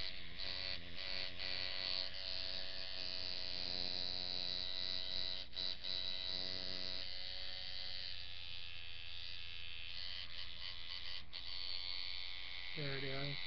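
An Image and Design tattoo machine runs while being tuned, giving a steady electric buzz whose pitch and tone shift partway through, close and continuous, with a voice speaking faintly beneath it.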